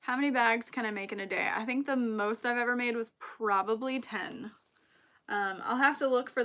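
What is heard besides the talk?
No distinct noise like a dog, phone or traffic.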